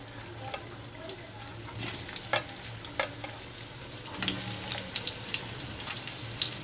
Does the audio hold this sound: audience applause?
no